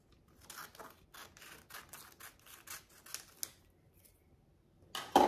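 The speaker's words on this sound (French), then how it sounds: "je les coupe en deux" Scissors snipping through folded paper cutouts for scrapbooking, a quick series of crisp separate cuts close by, then a louder rustle of handling paper at the end.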